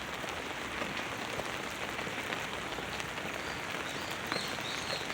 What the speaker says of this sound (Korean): 비가 많이 옵니다.